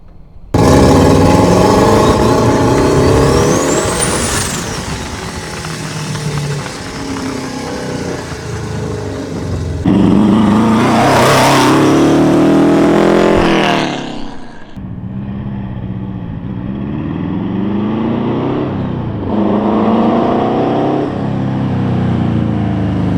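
Home-built Porsche race car with a lightly tuned engine accelerating hard on a street, loud and close, revving up through the gears with a rising whine, a sharp surge mid-run, then a lift and renewed pull.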